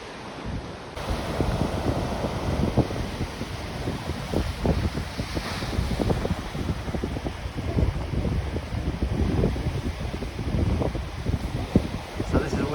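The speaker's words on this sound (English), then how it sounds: "the sea's far too rough" Rough sea surf roars continuously below a coastal clifftop at Dancing Ledge, loud and broad, mixed with heavy wind buffeting the microphone throughout.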